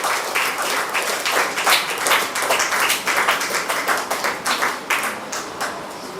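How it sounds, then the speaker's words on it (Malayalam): Applause from an audience at a school Grandparents Day celebration, steady dense clapping filling the whole stretch with slight swells, fairly close and loud. "ഒരു നല്ല കയ്യടിയൊക്കെ കൊടുക്കാം കേട്ടോ"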